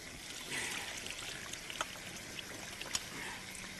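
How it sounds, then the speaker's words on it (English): Marinade liquid poured through a mouli sieve in a kitchen, a steady splashing, trickling stream with a few small drips and clinks, close and continuous, with no talking. "if I pour this liquid through the moulis mix"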